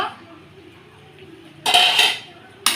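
A lid lifted off a pot of boiling food, a bright metallic clatter followed by a loud hiss of escaping steam, then a second clink at the end, after quiet kitchen background.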